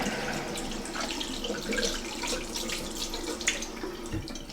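Tap water runs steadily into a bathroom sink during a morning shaving and grooming routine, a continuous close splashing hiss with small bursts of spatter as a face is rinsed.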